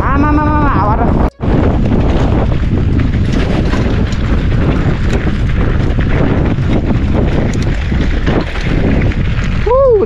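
Strong wind buffets the microphone in a loud, steady roar with broadband rumble throughout, heard while riding along a badly damaged road in Holeri, Rolpa; a brief dropout occurs early and a faint voice surfaces near the end.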